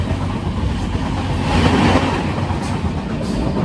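Kanyakumari to Varanasi Express running steadily, a loud, continuous rumble and rattle heard from inside the carriage, swelling slightly midway.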